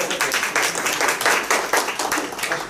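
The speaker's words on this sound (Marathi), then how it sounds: "प्रश्न विचारताना टाळ्या वाजवू शकता" An audience at a talk in Houston claps steadily, a dense burst of many hands heard close and continuous, with no one speaking over it.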